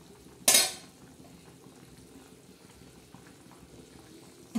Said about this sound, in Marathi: तर आता आपण याच्यावर झाकण ठेवू